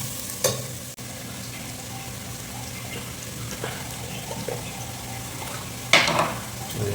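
Green chillies are stirred into a sizzling mutton biryani masala in a pan. A constant frying hiss carries a few sharp clinks and scrapes, with one clear knock near the end.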